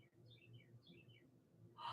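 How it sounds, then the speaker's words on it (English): Faint, high bird chirps in two quick descending bursts, heard softly in a quiet room with low background murmur. "Did you hear the birds chirping outside?"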